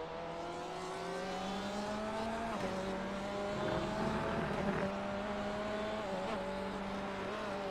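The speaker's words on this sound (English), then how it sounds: "We're going to see these two Porsches battle it out." Two Porsche race cars dueling on a track, their engines droning loud and steady with harmonic tones rising and dipping as they shift and jostle, a brief surge midway, heard from an onboard camera throughout.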